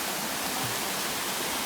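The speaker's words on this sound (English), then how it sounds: "Look at this waterfall." A waterfall pours into a big swimmable lake, heard as a dense, continuous broadband roar that stays steady and loud throughout, with no voices.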